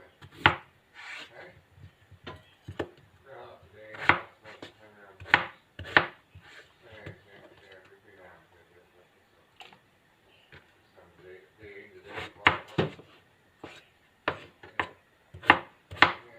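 Boiled potatoes mashed by hand for a shepherd's pie, heard as close, irregular knocks and soft squelching thuds that come in bursts with brief pauses between.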